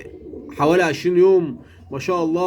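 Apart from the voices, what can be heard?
young pigeons cooing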